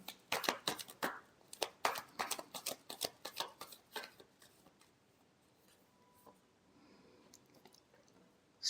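A deck of tarot cards is shuffled, making a quick run of soft, papery riffling clicks for several seconds that then trails off into near silence. The sound is faint and close.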